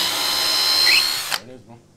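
A power drill whines steadily as it bores pilot holes into workbench wood, then cuts off abruptly, leaving a brief low rattle and quiet room noise.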